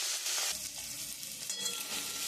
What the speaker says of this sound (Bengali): এবার আমি চিংড়ি মাছগুলো ভেজে তুলে নেব